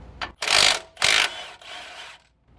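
A ratchet wrench with an 18mm socket clicks in quick bursts while loosening a brake caliper bracket on a 2014-2018 Silverado, close and clear with short pauses between strokes.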